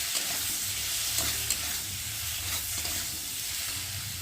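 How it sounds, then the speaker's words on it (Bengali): Spice paste of turmeric, chili and tomato fries in a pan for a fish curry, a steady close sizzle with scraping stirs throughout and no talking. "দিয়ে দেবো টমেটো, দিয়ে মশলাটা ভালো করে কষিয়ে নেব"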